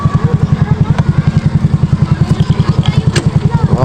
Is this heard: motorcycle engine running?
yes